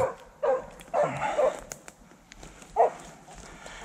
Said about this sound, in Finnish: koirat reppii